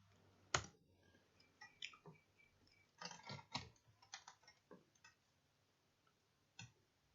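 Keys on a computer keyboard clatter in short irregular bursts, close and fairly quiet, with brief pauses between clusters of keystrokes.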